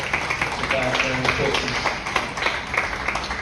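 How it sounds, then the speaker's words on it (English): Scattered clapping from a small audience in a Nashville honky-tonk bar mixed with talking voices, the applause fairly close and moderately loud. "Chris Essick, give a big round of applause."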